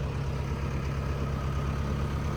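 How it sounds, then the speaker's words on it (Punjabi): New tractors run their engines in a field during harrowing, a low, even diesel rumble holding steady and moderately distant for the whole short stretch, with no voices over it. "ਨਵੇਂ ਟਰੈਕਟਰ ਚੱਲ ਰਹੇ ਆ"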